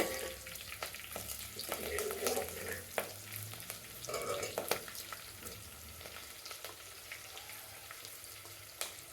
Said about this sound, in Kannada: ಹಸಿಮೆಣಸಿನ್ಕಾಯಿ ಸ್ವಲ್ಪ ಫ್ರೈ ಆಗೋದು ಚೆನ್ನಾಗಿ.